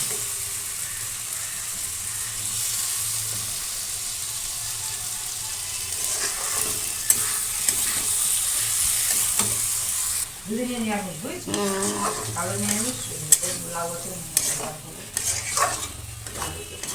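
An egg fries in a pan with a steady hiss of sizzling oil and occasional stirring scrapes and taps throughout; partway through, people start talking over the frying.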